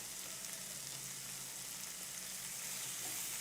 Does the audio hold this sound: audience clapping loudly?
no